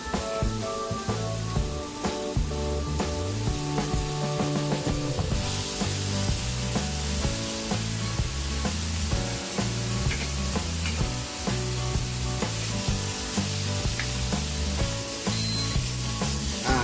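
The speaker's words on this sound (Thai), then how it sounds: "การย่างเนื้อด้วยกระทะโพลีคิงนะครับ ก็ไม่ต้องใช้น้ำมันเหมือนเดิมนะครับผม" Continuous crackling sizzle of pork frying without oil on a hot grill pan, steady and close, with music playing underneath.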